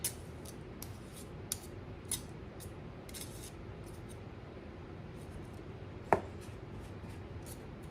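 A pastry cutter works cold butter into flour and dry ingredients for sourdough-discard biscuits. Soft irregular crunching cuts and scrapes fall over a quiet, steady background, with a few sharper clicks.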